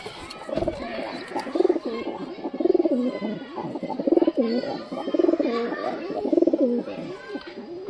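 Giribaz pigeons coo at night in a home loft, a pair nesting on eggs nearby, with repeated rolling low coos in regular bursts close to the birds, set over a soft background hum.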